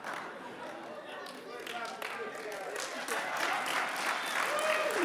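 A crowd at a charity challenge finals event claps, a diffuse, moderate wash of applause that builds gradually, with faint chatter mixed in.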